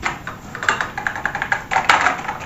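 Typing on the keyboard of a Nabu Personal Computer made in Korea, a close, brisk run of uneven clicking keystrokes with no talking.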